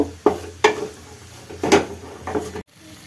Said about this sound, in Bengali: দিয়ে ভালো করে এপাশ ওপাশ করে কষে নেবো ভালো করে মশলাগুলো